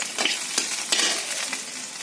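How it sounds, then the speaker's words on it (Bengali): Dried red chilies and a little garlic sizzle in hot oil, a steady crackling fry broken by a few sharp clicks of stirring, close up and with no voices. "তেলটা গরম হয়ে গেছে দিয়ে দিলাম শুকনো লঙ্কা আর একটুখানি রসুন শুকনো এটা একটু ভাজা হোক"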